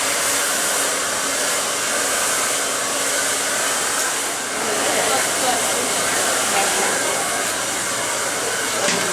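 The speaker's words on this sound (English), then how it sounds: "So you're always going to hold your blow dryer" A hair dryer blows steadily at close range, a constant loud whooshing hiss throughout with no pauses.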